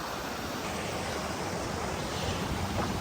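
Creek water flows through woodland in a loud, unbroken rushing wash that fills the whole moment, close by and with no voices.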